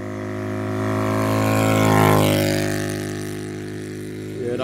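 Arrma Typhon V4 RC car on a 4S battery during a speed run at around 66 mph, a loud, sustained high-pitched electric motor whine that swells as it passes close and then fades slightly.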